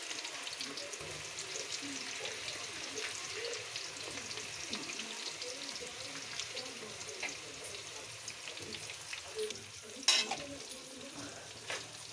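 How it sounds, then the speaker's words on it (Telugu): Pieces of bitter gourd deep fry in hot oil with a continuous bubbling sizzle, close and even, with one sharp clink near the end. "డీప్ ఫ్రైకి సరిపడా ఆయిల్ పోసి నూనె కాగాక ఈ ముక్కలు వేయాలి."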